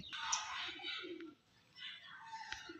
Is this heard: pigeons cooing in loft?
yes